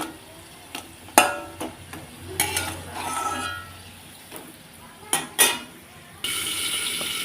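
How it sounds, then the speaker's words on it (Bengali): Crispy fried taro fritters being lifted out of a hot pan in a home kitchen, with scattered metal clinks and scrapes of a utensil against the pan over a soft oil sizzle, a few sharp knocks standing out. "সব নামিয়ে নিচ্ছি একেবারে আর বুঝতেই পারছো আওয়াজ শুনে কতটা মুচমুচে হয়েছে"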